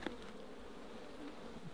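Honey bees buzzing inside a hive box of Mallee honey frames, a dense continuous hum heard close and fairly quiet, with no talking.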